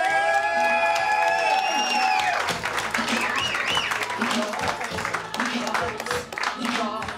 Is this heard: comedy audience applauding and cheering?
yes